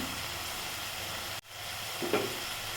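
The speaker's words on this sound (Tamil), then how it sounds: "சேர்த்து நல்லா வதக்கிக்கலாம் பாருங்க நமக்கு தக்காளி வெங்காயம் நல்லா வதங்கிட்டு வரணும்" Onion, tomato and curry leaves sauté in a pan with a steady close sizzle and frying hiss, broken by a brief stir and a small clatter near the end; no talking.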